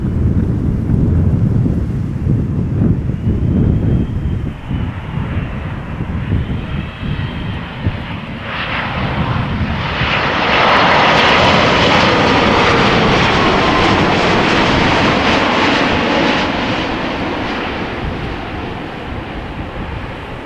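An airliner passes at Amsterdam Schiphol Airport with a loud, sustained jet engine roar that swells mid-pass and slowly fades, with wind buffeting the microphone.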